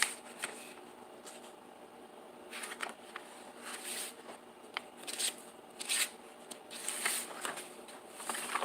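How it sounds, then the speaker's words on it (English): A fresh sheet of drawing paper is handled and shuffled at close range, with soft crisp rustles and flicks in irregular bursts over a quiet room background, while caricature drawing is under way. "Get a fresh new piece of paper."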